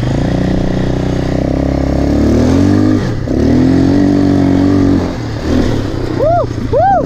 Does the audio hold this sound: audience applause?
no